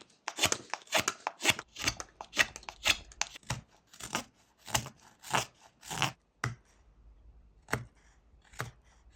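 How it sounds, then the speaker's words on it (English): A knife whittles an unneeded piece off a small wooden rooster carving, giving a rapid series of crisp, close scraping cuts that slow into a few spaced strokes near the end. "Now we're at the point where we can carve this unnecessary piece of wood off."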